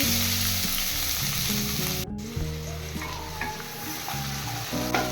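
Chopped onion sizzles steadily in hot oil with whole cumin seeds, a dense close-up crackle with occasional scraping stirs and a brief dropout partway through.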